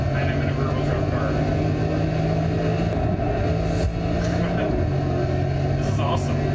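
A rear-wheel drive car's engine drones steadily and loudly while racing through snow in a video game, holding a fairly even pitch with slight surges.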